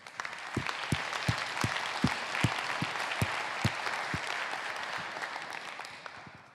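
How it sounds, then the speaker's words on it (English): Conference audience at a solar energy pitch event gives a round of applause, a medium crowd clapping steadily, with several sharp individual claps standing out near the mic before it tapers off. "I'd like us all to give Access and FMO a round of applause for supporting small projects like this."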